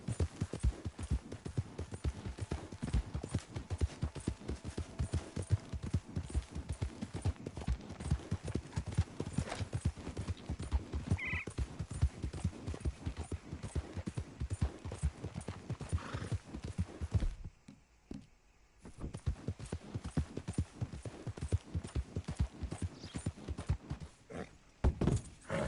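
Hooves of a horse in Red Dead Redemption 2 beat in a fast, steady galloping rhythm, close and continuous, with a brief pause near the end before resuming.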